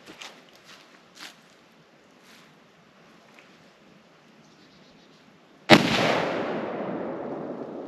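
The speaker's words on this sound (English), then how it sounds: "I'm gonna shoot the bottom below where he shot." A single loud rifle shot during deer hunting in West Virginia rifle season, a sharp close crack followed by a long rolling echo, after quiet rustling and a few soft knocks.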